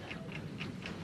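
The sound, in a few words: bomb ticking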